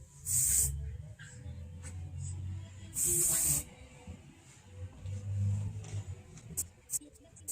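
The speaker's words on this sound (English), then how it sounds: "then go through with the Shine Spray afterwards too" Goldwell Shine Spray hair spray misted over freshly colored hair in a salon, two distinct hissing bursts about half a second each, close to the mic, amid low background rumble and small handling noises.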